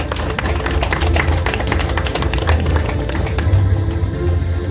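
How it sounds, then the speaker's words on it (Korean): Steady applause from a seated crowd honouring a speaker at a Korean memorial ceremony unveiling statues at the Dabudong war memorial in Chilgok, filling the whole moment at an even, dense level. "조갑재 대표님께 다시 한번 큰 박수 부탁드립니다"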